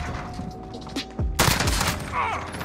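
FAL rifle fire in the video game Modern Warfare, a burst of sharp shots and a loud blast in the middle, followed by ringing noise and scattered gameplay sounds.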